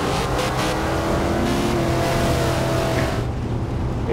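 A 302 Foxbody launches from the start in Forza Horizon 2 with a loud, continuous engine roar that climbs in pitch as it accelerates, close and steady, then drops off abruptly at the end.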